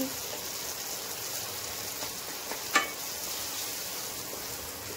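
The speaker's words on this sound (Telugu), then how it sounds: "ఇందులో కొంచెం కరివేపాకుని వేసి ఫ్రై చేయండి" Tomatoes and curry leaves frying on a high flame, a steady broadband sizzle filling the whole stretch with one brief sharper crackle or stir partway through, close and continuous with no talk.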